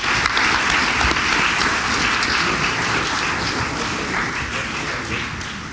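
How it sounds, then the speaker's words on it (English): An audience at a county candidate forum gives a sustained round of applause as the magistrate candidates leave the stage, a thick rain-like wash of many hands that stays strong and eases slightly toward the end. "Let's give them a big round of applause as they exit the stage."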